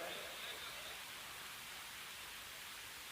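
Steady broadband rain hiss fills the whole stretch, a continuous even wash without breaks, loud and close.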